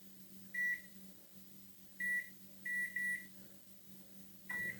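An air fryer control panel gives five short electronic beeps at uneven spacing, each a clear high tone over a low steady hum, close by and with no talking.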